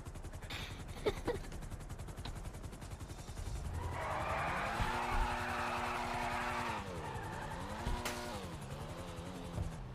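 A car in GTA V drives with a steady engine drone that rises and falls, with tire skid squeals in the middle and clattering game noise at the start.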